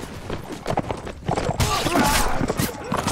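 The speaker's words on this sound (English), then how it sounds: "Let's have my cavalry charge too, actually." Cavalry horses charging in a Warband American Revolution battle mod, hooves clattering in a busy, irregular thump amid battlefield clamor that grows louder and denser toward the end.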